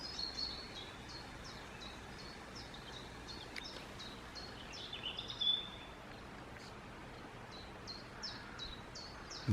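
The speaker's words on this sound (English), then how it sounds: "The sound of the birds and the sound of the water." Birds chirp and call outdoors near running water, short tweets repeating faintly over a soft steady background wash.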